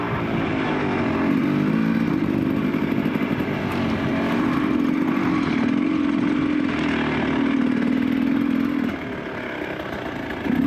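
A hard enduro dirt bike engine drones loudly and steadily nearby during off-road training, its buzzing pitch rising and falling slightly before easing off near the end.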